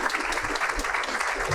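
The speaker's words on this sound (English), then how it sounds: "Let's give another round of applause to our heroes." An audience at a student-voices event applauds, a brief, dense burst of steady clapping that fills the room.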